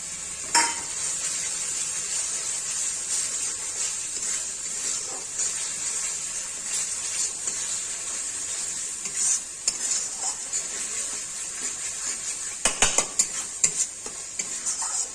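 Spices fry in oil in a pan for a katla fish kalia made with green pea paste. A continuous close sizzle runs throughout, with stirring scrapes and a brief burst of utensil clatter near the end. No voices are heard.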